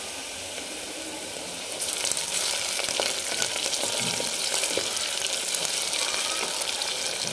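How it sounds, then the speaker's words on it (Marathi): Onion frying in oil for a mutton curry. A soft hiss swells into a louder, dense, crackling sizzle after a couple of seconds and stays steady and close, with no talking. "तर आपला कांदा तळून होतोय"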